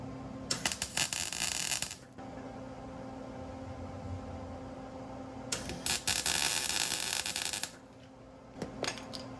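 A welder butt welds a patch panel into the passenger rear quarter of a 1966 Ford Mustang coupe, with bursts of loud, steady crackling hiss that stop and restart, set over a constant background hum.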